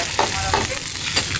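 Soup poured into a hot wok of green peppers and meat at a busy Japanese Chinese restaurant, a loud close sizzle and bubbling hiss with stirring scrapes throughout.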